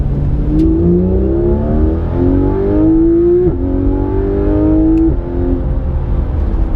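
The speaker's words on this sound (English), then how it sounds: "listen to the gearbox change on this" Porsche 991 GT3 RS engine pulling hard through the gears, loud and close inside the car, with rising engine tones broken by two quick gear changes that shift the pitch.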